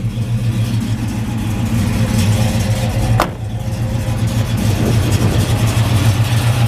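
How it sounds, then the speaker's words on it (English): A 1970 Chevrolet El Camino SS 454 big-block V8 with Flowmaster exhaust idles loudly and close, a deep, lumpy, continuous rumble with one sharp click midway. "And big block, man, they sound awesome."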